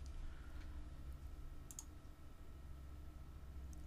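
A computer mouse gives a couple of soft, brief clicks, set quietly over a low steady electrical hum in a still room.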